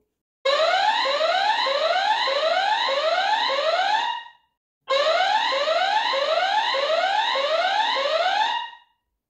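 Built-in siren of a GALAYOU 2K WiFi outdoor security camera, two loud close bursts of about four seconds each of rapidly repeating rising electronic sweeps, separated by a brief silence.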